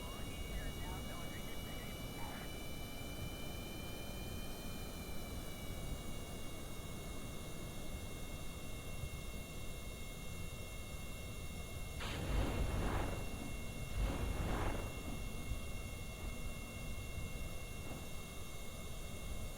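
Propeller engines of a B-17 bomber in the video game Kerbal Space Program 2 drone steadily in flight with a constant whirring hum; people talk over it.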